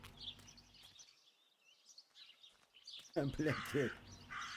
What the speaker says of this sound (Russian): И ворона